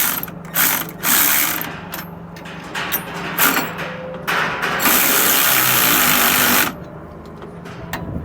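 A ratchet snugs down the bolts of a Roadmaster Exact Center steering stabilizer in repeated quick clicking bursts, close and loud, separated by short pauses and ending in a longer sustained run.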